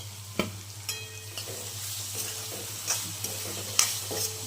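Turiya (ridge gourd) shaak seasoned with garam masala sizzles in a pan on a gas stove, with a steady fry broken by occasional spoon stirs and light scrapes, close and without talk.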